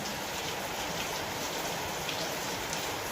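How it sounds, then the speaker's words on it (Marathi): Continuous rain pouring down, a dense steady hiss of drops on surfaces, moderately loud and unbroken, with no voices. "पाऊस बघा आपल्याकडे कसा चाललेला आहे चौकडचा पाऊस चालला आहे"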